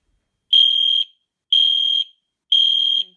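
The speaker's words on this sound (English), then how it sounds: "Genesis horn strobe" Three loud, close half-second blasts from a Genesis horn strobe fire alarm, evenly spaced one second apart with silence between, harsh and piercing.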